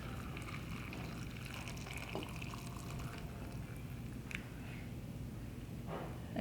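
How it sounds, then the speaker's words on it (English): Hot boiling water pours steadily from a kettle or pot into a glass canning jar packed with raw green beans, a soft continuous splashing trickle, fairly quiet and close, with a few light clinks. "With a raw pack, you're going to add hot boiling water to this till it covers it."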